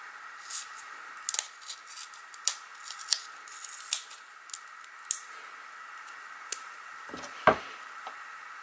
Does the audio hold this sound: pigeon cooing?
no